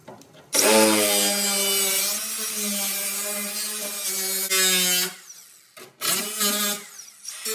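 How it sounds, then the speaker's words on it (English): Car body metal is cut out on a Mercury Grand Marquis under restoration, a loud harsh grinding cut with a steady pitched whine for several seconds, pausing briefly and then resuming in shorter bursts. "I'm going to start just cutting that out now."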